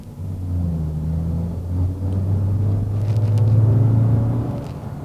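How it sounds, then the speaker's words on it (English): A 2019 Mazda 3 hatchback with an automatic transmission accelerates hard, its engine note a steady low drone that rises and swells through the first few gears, heard from inside the cabin without talk. "this car really does surge off, especially in the initial gears, first few gears"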